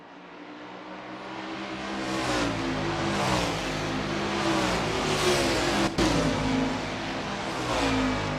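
A 1989 Chevrolet Camaro Z28 IMSA GTO race car's V8 revs hard on track at Phoenix Raceway, loud and close, rising in pitch through several surges and gear changes with a brief break near the end.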